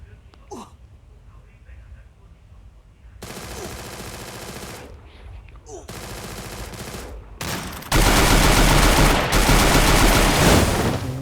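Gunfire from the mobile shooter game Free Fire: dense rapid automatic bursts that grow louder and more continuous, becoming a heavy sustained barrage near the end, with brief speech faintly under the shooting.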